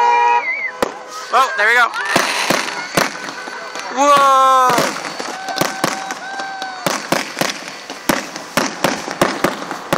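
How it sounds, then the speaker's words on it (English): Fireworks at Saddle Lake in 2014 burst with loud sharp cracks and pops, whistling rockets rising between them, while excited voices talk and cheer nearby. "Gotta get more fireworks, man."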